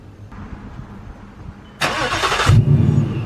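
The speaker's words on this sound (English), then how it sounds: "I walked out of my house, I cold started the engine" A Ford Mustang GT V8 is cold-started: a faint low rumble, then a loud broadband burst of cranking and catching about two seconds in, settling into a deep, loud idle close to the microphone.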